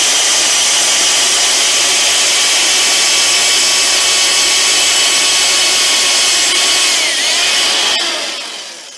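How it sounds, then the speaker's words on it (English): A loud, steady high-pitched power drill whine boring through the end of a golf club grip runs continuously for several seconds, then winds down and cuts off near the end. "the end of the drill bit will go in the little hole in the end of the grip"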